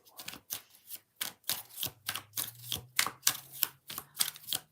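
Tarot cards being shuffled by hand in a string of quick, crisp riffling bursts with short gaps between them, close and fairly quiet, with a faint low hum running underneath.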